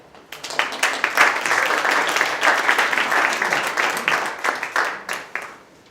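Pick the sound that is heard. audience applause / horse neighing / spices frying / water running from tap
audience applause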